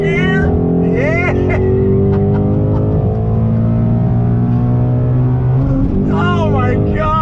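A 2019 Ford Shelby GT350 engine revs and drones through gear changes, with rising pitch sweeps at the start and end around a sustained steady engine tone, loud and close.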